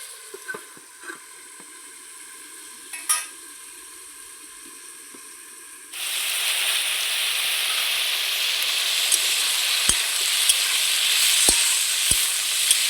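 Sliced bottle gourd cooks in a pan that is covered partway through. Faint clinks and stirring come first, then a steady, soft sizzle and bubbling rises and holds, broken by a few light taps, with no voices.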